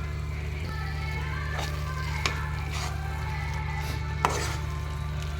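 Chili powder being stirred into food frying in a pan for a curry, with soft scraping stir strokes and a few sharp utensil taps over a steady sizzle and hum, close by.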